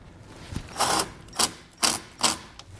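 A ratchet turns a 13mm socket to reinstall a nut over a fuse harness ring terminal on a 2021 vehicle's air helper spring compressor install. It gives four short bursts of close ratcheting clicks separated by pauses.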